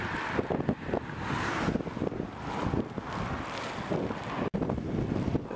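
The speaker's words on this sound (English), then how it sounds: "It's a bit blowy, and the wind chill is a little bit cool" Wind buffets the microphone on a recumbent ice trike during an outdoor ride, a loud, gusty rumble that swells and dips continuously, with one brief dropout near the end.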